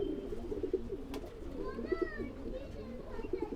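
Flying-breed pigeons coo close by in soft, repeated, throaty phrases, with a faint bird call drifting in over the cooing.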